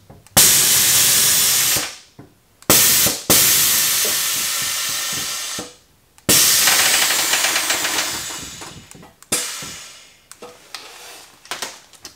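Air suspension on a Toyota Supra releasing air as it lowers, heard as loud, close hissing bursts that each last a few seconds and fade out, separated by brief silences.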